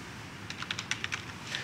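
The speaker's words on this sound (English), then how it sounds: "Sorry, I'm not familiar with this keyboard, as you can tell." Keys on a computer keyboard are typed in a short uneven burst of clicks, close and fairly quiet, with a brief pause before a final couple of taps.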